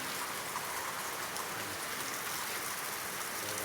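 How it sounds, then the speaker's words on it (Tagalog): Steady, dense rainfall hisses continuously, a constant wash of drops with no voices. "Malakas ang ulan dito sa trabaho ko."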